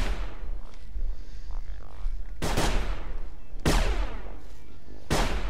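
Robot enemies fire guns in the video game Sir, You Are Being Hunted, three loud sharp bursts a second or so apart, each ringing out over a low background hum.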